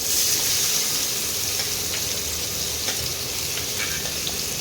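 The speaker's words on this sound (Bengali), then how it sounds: "এই তেলের মধ্যে এবারে পাতলা পাতলা করে পেঁয়াজ কুচিয়ে রেখেছি, সেই পেঁয়াজ কুচনোগুলো এবার দিয়ে দেবো।" Thinly sliced onions fry in hot oil for a mutton curry, a loud, continuous close-up sizzle with faint crackles and stirring scrapes, and no voices.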